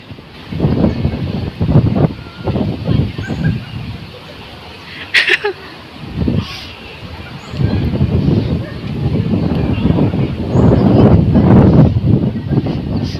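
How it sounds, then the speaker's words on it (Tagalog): Strong gusts roar and buffet the microphone in waves at Supertree Grove, Gardens by the Bay, rising and falling throughout, with a few faint bird chirps in the background. "Ang hangin."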